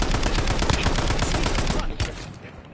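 Rapid automatic gunfire in the Call of Duty Warzone battle royale game, loud and continuous bursts crackling densely for most of the moment before thinning out near the end.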